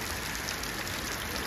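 Rain falling during a stormy, flooding day on a goat farm, a dense steady hiss of drops that holds at a moderate level for a short stretch.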